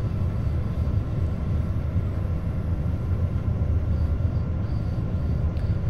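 A RABe 523 electric train accelerates in Train Sim World 3, a steady, dense low rumble of motors and rolling wheels holding at an even level with no voices.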